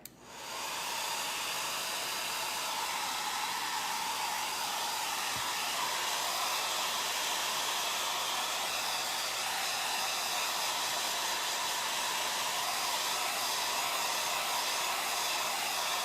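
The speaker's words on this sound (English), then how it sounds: "I'm just gonna blow this dry so that the wax is dry." A hair dryer starts up and blows continuously, drying wax on an old cupboard door being repurposed, a loud, steady airy roar close to the mic with no talking.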